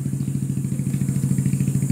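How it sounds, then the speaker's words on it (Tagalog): A small motorcycle engine idling close by on a rural mango farm, a steady fast low-pitched putter with regular pulses and light mechanical clatter. "Ang cute ng motor niya."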